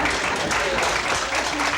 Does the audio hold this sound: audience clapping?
yes